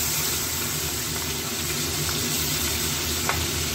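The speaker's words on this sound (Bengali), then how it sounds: "4টে করে ভাজছি, এপাশ ওপাশ করে ভেজে তুলে নেব।" Giant prawns marinated in salt and turmeric fry in a pan with a steady, dense sizzle, close and even throughout, with a faint clink near the end.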